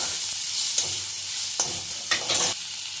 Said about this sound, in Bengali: এখন বাঁধাকপিগুলোকে ভালো করে ভাজবো।